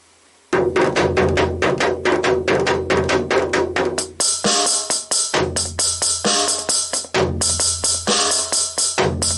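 A homemade electronic drum pad costing about five dollars is struck and played through an amplifier. Loud, close hits repeat in fast rhythmic runs, giving way to fuller booming drum sounds with short pauses between phrases.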